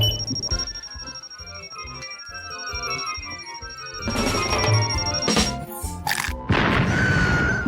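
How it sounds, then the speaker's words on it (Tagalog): A cartoon chocolate explosion bursts out as a loud, messy boom with crashing splatter, arriving after tense music with a high whine, then a second sharp blast and trailing noisy debris near the end. "Isang totoong pagsabog ng tsokolate."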